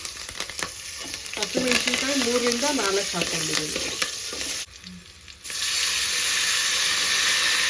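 Cashews, curry leaves and green chillies sizzle steadily in hot oil as a tempering for khara pongal, a close, continuous frying hiss with stirring, while someone talks over the first half.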